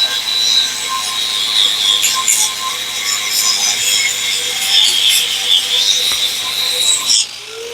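Grinder wearing rivets out of car or truck suspension ball joints during a front suspension rebuild, a steady, loud, unbroken grinding rasp lasting throughout, briefly dropping away near the end.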